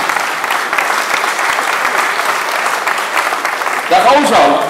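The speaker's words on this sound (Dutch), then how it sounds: "mag ik een keihard applaus voor de sterkste man van Kampen" Loud, sustained applause from an audience at a Dutch New Year's reception in Kampen, greeting the town's strongest man onstage; steady dense clapping throughout, with voices and cheers rising near the end.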